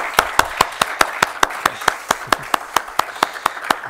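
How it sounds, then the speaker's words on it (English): Rhythmic clapping at a conference, sharp evenly spaced claps at a steady beat of about four per second, crisp and close, standing alone without talk. "So if we could please have a big round of applause for the ICD volunteers and staff."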